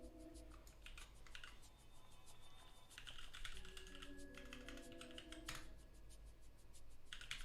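Computer keyboard typing while writing code, with steady, quick clusters of close key clicks running throughout at low level, with faint background hum and no talking.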